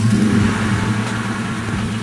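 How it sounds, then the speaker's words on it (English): A Ford Mustang with a 4.6L engine runs close by in a garage, giving a low steady rumble that eases slightly, with no voices present. "Start the car,"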